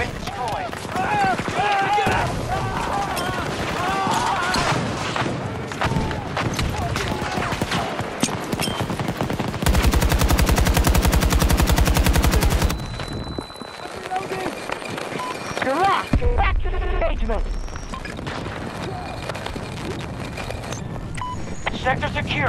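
Automatic rifle fire from an AK-24 in a Battlefield 2042 firefight, dense bursts of shots over loud combat noise with a sustained roaring stretch midway, voices talking throughout.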